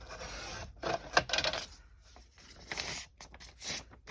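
Paper being trimmed for a handmade notebook, a few short rasping cuts and rubbing strokes close by, fairly quiet, with no talk over them.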